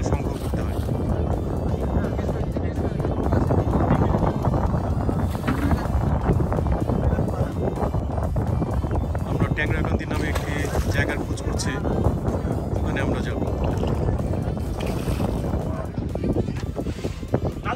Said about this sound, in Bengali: আমাদের নৌকাটা বালিতে আটকে গেছে ভাই